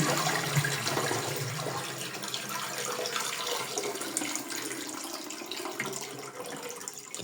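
Water drains and gushes steadily from a toilet cistern being emptied during a repair, with the mechanism's valve shut off; a continuous, close, fairly loud rushing flow lasts throughout with no talking.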